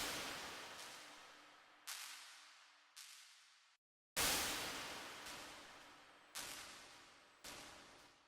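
Bright, crispy impulse-response bursts with a heavy high-end hiss, each struck like a noisy hit and decaying over about a second, repeating irregularly with a brief silent gap midway.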